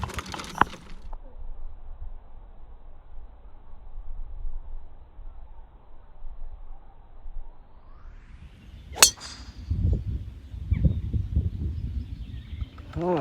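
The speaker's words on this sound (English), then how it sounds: "that was a cheeky little 8-iron from 122" A golf ball struck with an 8-iron from 122 yards rings out as one sharp, bright click near the nine-second mark. Steady outdoor ambience sits around it, and faint talk and crowd murmur follow the strike.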